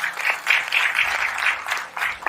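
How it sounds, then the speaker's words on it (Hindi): Audience applause at a business opportunity presentation, a steady burst of clapping lasting a couple of seconds at moderate loudness with no talk over it. "एक जोरदार तालियां"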